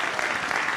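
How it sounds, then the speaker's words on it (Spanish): Audience applause fills a live event hall, a dense steady burst of clapping heard briefly and alone. "Fuerte el aplauso, señoras y señores."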